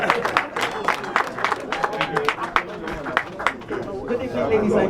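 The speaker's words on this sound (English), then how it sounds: "Give them a round of applause." A crowd at an evening reception in the House of Commons claps in scattered, uneven bursts, with murmured chatter and voices running through the applause.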